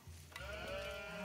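A sheep bleats in the Age of Empires 4 real-time strategy game, one sustained wavering call over a steady low game hum, no talk.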